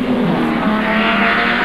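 A touring race car at the 1986 Surfers Paradise endurance race drives down through the dipper, its engine a loud, continuous roar with a faint tire squeal, close and steady for under two seconds.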